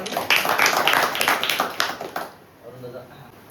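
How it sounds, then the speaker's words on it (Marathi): People at a school notebook distribution event clap together in a loud, fast burst lasting a little over two seconds, then the clapping fades. A voice speaks faintly afterwards. "टाळ्या वाजवा,"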